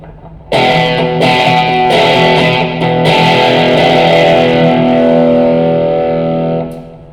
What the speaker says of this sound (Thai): ลองเป็นเสียงแตกแตกแบบสุดเลยนะค รับ